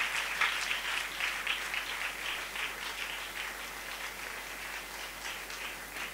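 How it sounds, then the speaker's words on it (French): A church congregation applauds steadily, a dense wash of many hands clapping together at moderate distance, sustained and even throughout with no clear voices standing out. "Et nous acclamons très fort le Seigneur Jésus."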